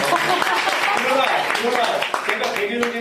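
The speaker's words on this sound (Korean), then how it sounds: "박수 한번 치고요" Church congregation applauding during a Sunday service, a dense wash of clapping from many hands mixed with voices throughout.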